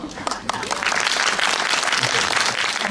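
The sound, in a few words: audience applause at film screening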